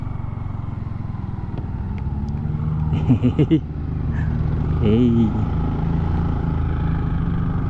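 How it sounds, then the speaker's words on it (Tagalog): Loud motorcycles pass along the Talisay–Tagaytay road, their engines droning steadily with a couple of revving surges midway, close and prominent while a man calls out briefly over the traffic. "Malalakas na mga motor nyo."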